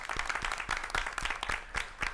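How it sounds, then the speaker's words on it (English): Applause for presenters at a school board of education meeting, a scattered round of hand claps with a steady wash of clapping, moderately loud and fairly close. "Let's give the presenters a round of applause,"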